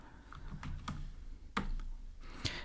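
Typing on a computer keyboard: a handful of quiet, scattered key clicks with irregular spacing, close and faint.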